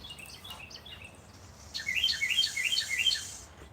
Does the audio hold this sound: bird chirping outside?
yes